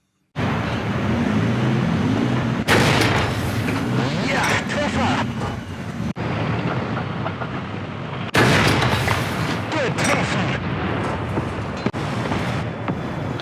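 Heavy tank cannon shots and impacts on a Russian tank in War Thunder, one striking a Leopard 2 gun mantlet, loud booming blasts at about 2.7 and 8.4 seconds over constant engine rumble and battle noise, with talk over it.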